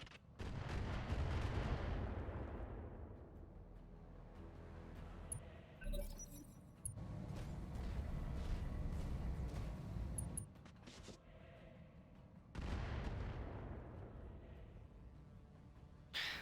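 Heavy weapons fire and explosions in the BattleTech mech game: repeated booming artillery-like blasts and gunfire in dense bursts, loud and near, with short lulls between volleys and metallic clinks.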